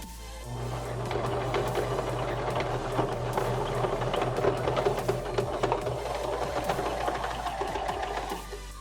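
A sewing machine runs continuously and loudly up close while stitching a fabric face mask, a steady mechanical whir with rapid needle chatter throughout, no voices.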